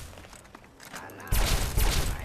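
Laser rifle fire in Fallout 3, a dense burst of loud crackling shots starting partway through after quieter game ambience.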